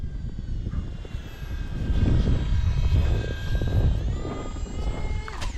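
A radio-controlled F-35 model jet (FX9635) flies outdoors, giving a steady, loud whooshing roar with high whining tones that shift in pitch as it passes. No talking is heard.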